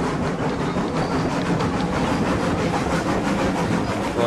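A train in the video game Railroads Online rolls along the track with a dense, steady rumble and faint rhythmic clatter, loud and continuous throughout with no voices.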